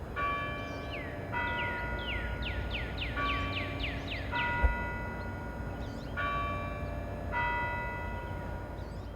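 Church bells of the Basilica of the Sacred Heart on a university campus peal in a steady, overlapping sequence, ringing out at a distance over a low background hum, with one brief thump partway through.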